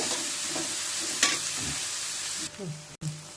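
Onions frying in oil in a kadai make a steady hiss with occasional stirring clatter. A brief voice comes in near the end, and the sound drops out sharply for a moment just before it closes.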